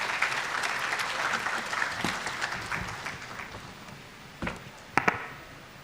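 Audience applause at a graduation ceremony for a Red Cross training institute in Kenya, steady clapping from a large crowd that thins toward the end, with a few louder individual claps near the close.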